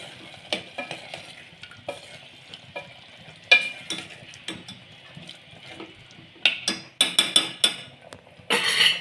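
Soaked chickpeas are added to a hot pan and stirred for a Kathiawadi chickpea curry. Close, intermittent scrapes and sizzling bursts recur over a quiet background, growing busier toward the end.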